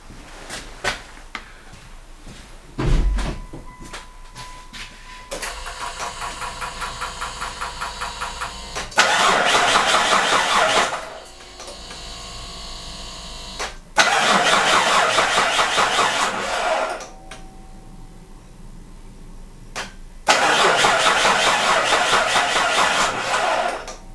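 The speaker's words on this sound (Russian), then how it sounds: "запускаем двигатель и проверяем, какое будет сейчас давление" A Mitsubishi Pajero 3 GDI engine cranks and fires several times after a fuel pump filter change, catching briefly and running rough between short pauses, close and fairly loud; no one speaks.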